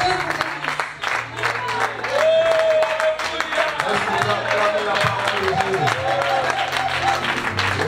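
Applause at a French- and Portuguese-language church seminar, steady clapping mixed with a sustained keyboard or organ tone and a voice calling out over it.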